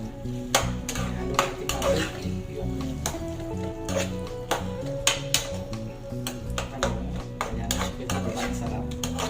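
A utensil stirs and taps through grilled eggplant mixed with tomatoes in a bowl, giving soft repeated clinks and scrapes close by and at a steady pace.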